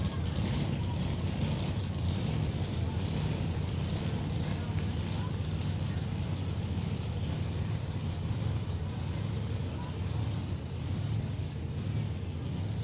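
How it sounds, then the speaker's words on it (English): Supercharged big-block drag race cars, a Nova and an Anglia, rumble loudly at the NHRA Hot Rod Reunion starting line, a dense continuous low roar with crowd and track ambience. "Supercharged big blocks, the name of the game here."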